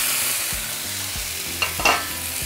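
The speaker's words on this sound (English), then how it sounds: "we're going to throw in our chorizo." Chorizo dropped into a hot pan for enchorizadas fries with a steady hiss, and a couple of louder spattering bursts come near the end. It is close and fairly even, with no talk.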